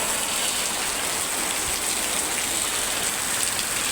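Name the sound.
rain falling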